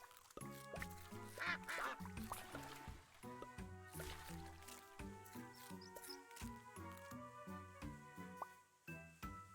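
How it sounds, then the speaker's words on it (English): Repeated cartoonish duck quacks from a video game pop over a busy, looping game soundtrack, fairly faint in the mix. "Quack, quack."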